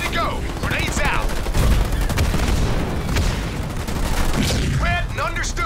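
Grenades go off in the Halo Wars 2 video game amid a busy battle, with booming blasts and rattling gunfire layered together, while voices bark and chatter over the noise.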